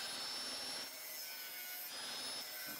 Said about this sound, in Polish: Mam szlifierkę.